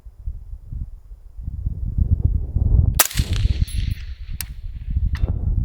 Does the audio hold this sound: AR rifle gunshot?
yes